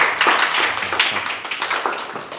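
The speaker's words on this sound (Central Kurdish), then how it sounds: "با چەپڵەیەکیان بۆ لێ دێین" Audience clapping at a lively indoor event, a steady burst of many hands applauding together that stays fairly loud for the whole stretch with no voices over it.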